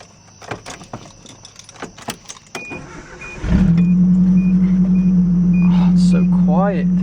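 A Nissan Hardbody pickup, suspected of a blown head gasket: keys jangle and rustle near the cab, then the engine cranks and catches, settling into a loud, steady idle with a faint chirp near the end.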